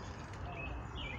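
Birds at a zoo enclosure at Franklin Park Zoo in Boston, faint distant chirps and short whistled calls over a low rumbling outdoor background.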